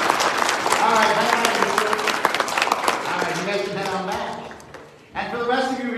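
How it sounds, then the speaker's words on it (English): A church congregation claps for first communion children, a broad burst of many hands that fades out near the end before voices and clapping briefly pick up again. "Let's give them a round of applause right at our first communion."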